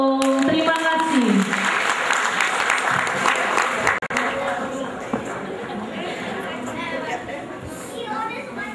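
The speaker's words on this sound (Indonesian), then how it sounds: "sekali lagi dong tepuk tangannya buat TK dan SD Pertiwi" An audience at a school event applauds for a kindergarten and elementary school group, a dense, steady wash of clapping that fills the room from start to finish, with a voice calling over it at the start and crowd chatter underneath.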